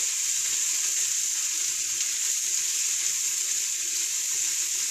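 Mushrooms sauté in a pan with a steady, even hiss that stays loud and unbroken throughout, with no voices over it.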